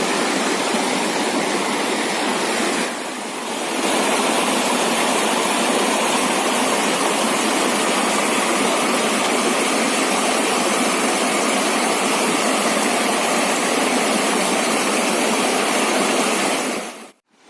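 The Akunoor waterfall gives a steady, loud, close roar of rushing water that runs unbroken for the whole stretch, with only a brief dip near the start. No voices are heard.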